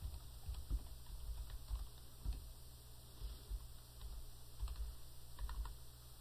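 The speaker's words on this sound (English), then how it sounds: "So I'm going to type something like this." Soft, close keystrokes on a computer keyboard patter in short irregular bursts while someone types a note, quiet and with no talking.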